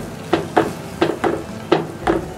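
A spoon scrapes and stirs semolina with ghee and water through thick kesari in a pan, six rhythmic strokes close by, each a soft gritty swish.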